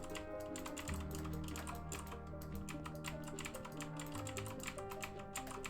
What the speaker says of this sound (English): the mechanical keyboard sound would have been a little rough to listen to, for sure